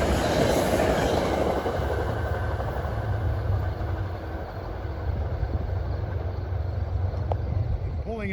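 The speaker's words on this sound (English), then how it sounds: "Pulling out of the station is train 774 for Grand Central with M3s, passing the old depot." A Metro-North train of M3 cars, number 774, pulls out of the station past an old depot, its rumbling wheels and rail noise steady and fairly loud throughout.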